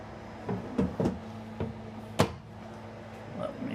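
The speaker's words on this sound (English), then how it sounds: "And then we do get 2 more of the full pull-out drawers." Several quick knocks and sliding clunks of full pull-out storage drawers being pulled and pushed in a 2024 Newmar Dutch Star motorhome, close by, with a louder thump near the end and a faint hum underneath.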